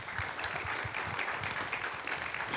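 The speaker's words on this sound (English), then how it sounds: "Everyone give them a round of applause." Audience members at a town hall on voting and democracy clap together in a soft, even patter of many hands, somewhat distant and sustained throughout.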